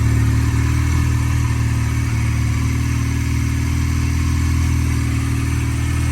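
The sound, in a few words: 1996 Honda Rebel 250cc motorcycle engine starting and running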